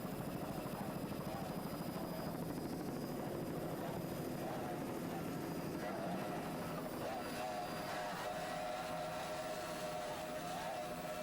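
Racing powerboats, a 33-foot Power Play and a 28-foot Skater battling in a C-Class offshore race, give a continuous loud engine drone throughout, with commentary running over it.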